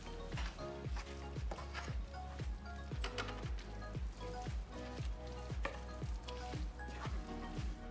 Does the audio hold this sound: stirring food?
yes